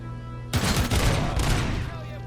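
Gunfire in RoboCop: Rogue City, a sudden loud burst of rapid shots that cuts in over a humming background and keeps rattling for about two seconds before fading into ringing ambience.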